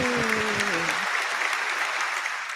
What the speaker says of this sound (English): Oh, let's get some applause. Get some applause.